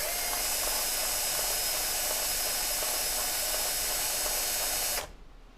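A power drill driving a yarn ball winder whirs at a steady high pitch, running continuously up close, then cuts off abruptly near the end.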